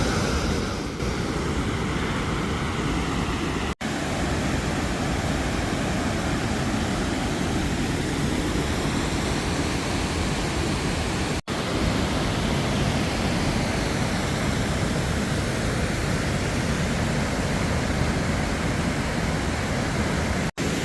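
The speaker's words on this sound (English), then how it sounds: "So it looks like the trail dead ends here at this waterfall." Waterfall at the dead end of a hiking trail in Old Stone Fort State Park, a steady, loud, close roar of falling water that continues unbroken throughout.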